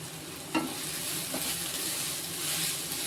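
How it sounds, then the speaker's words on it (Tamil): Amla sautés in oil with turmeric and asafoetida, crackling in a soft, steady sizzle while a spoon stirs with a couple of brief scraping strokes close by. "இதை எல்லாமே சேர்த்து நல்லா வதக்கிக்கிறோம்"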